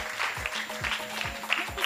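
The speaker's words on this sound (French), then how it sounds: "Applaudissez pour elle." A studio audience claps for a young girl on a children's television show, light scattered applause with a rhythmic pulse running beneath it, fairly faint.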